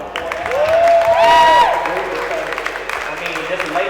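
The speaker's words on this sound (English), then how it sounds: "can I clap it up for Rob and for" An audience at a runway show applauds and cheers for Rob, a short burst of clapping and whoops swelling then tapering, mixed with a voice speaking over it.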